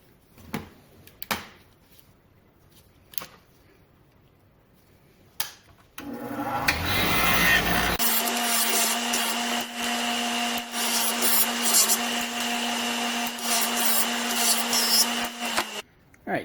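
Johnson Evinrude three-cylinder outboard lower unit hardware being cleaned: a few scattered clicks and knocks, then a sustained whirring power tool, like a wire wheel, grinding steadily on metal for about ten seconds before stopping.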